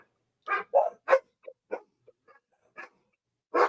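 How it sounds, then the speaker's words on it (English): Several dogs bark in short, sharp bursts indoors, with irregular yaps and gaps of silence between them, fairly close and with no talk over them. "The dogs are going wild."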